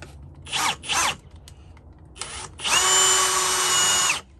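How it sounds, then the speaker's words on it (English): Short bursts of a power drill pre-drilling holes for an Andersen storm door, two quick pulses and then a longer sustained whine, close and loud with no talk. "just pre-drill your holes"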